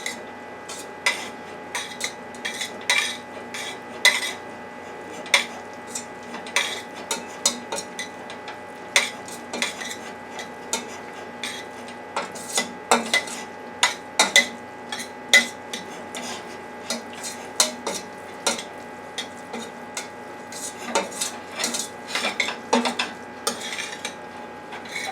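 Butter stirred into hot, unrinsed boxed Cheetos cheesy jalapeño macaroni in a pot, with steady scraping and clinking of a utensil against the pot, irregular and fairly close, with no talking.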